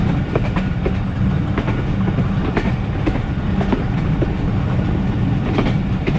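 Pakistan Railways Thal Express passenger train running between Rawalpindi and Golra Sharif, a steady rolling rumble with repeated clickety-clack wheel beats over rail joints, continuous and close, no voices.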